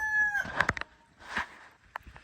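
A Plymouth Rock chicken's crow followed by a few sharp clucks and squawks, close by, with short quiet gaps between the calls; the hens are sick.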